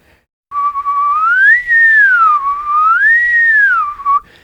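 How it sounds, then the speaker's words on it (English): A single clear whistled note sliding smoothly upward and back down twice in a long continuous glide, close and loud, used as a tongue exercise for saxophone voicing, with no talking. "So whistle a note and just slide it around with your tongue, low to high."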